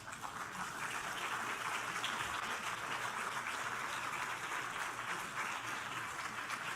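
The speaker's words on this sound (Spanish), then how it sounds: "Den un aplauso al Señor." A church congregation applauds during a sermon, a steady, dense wash of clapping that holds at a moderate level for several seconds without a break.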